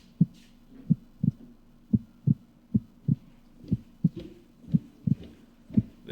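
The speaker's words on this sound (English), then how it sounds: "The only part of this I've really ever experienced is the heartbeat you're hearing right now." A quickened heartbeat sound effect in a schizophrenia simulation game thumps steadily in low, paired beats about every half second, loud and close, alone with no talk.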